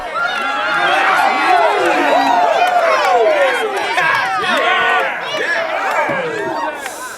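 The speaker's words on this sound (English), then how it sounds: "The crowd go berserk." A metal concert crowd going berserk after the band stops abruptly, a loud sustained roar of whoops, yells and hollers from many voices close by.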